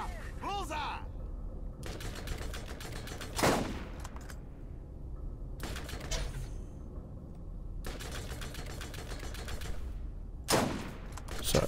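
Gunfire in the video game Borderlands comes in several loud, dense bursts a few seconds apart, with brief sharp shots, over game background sound while players talk.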